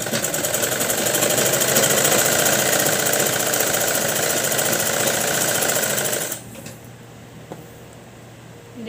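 A sewing machine stitches a Punjabi-style patiala salwar, running as a fast, steady mechanical chatter for about six seconds before stopping into quiet room tone.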